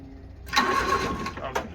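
A kei truck's small engine cranks and fires up for the first time, a rough mid-pitched burst of running with uneven sputters, close and fairly loud over a quiet background.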